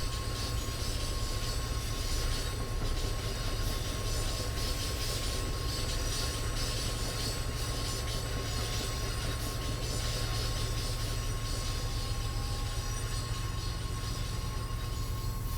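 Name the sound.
locomotive-hauled MBTA commuter train in Train Sim World 5 video game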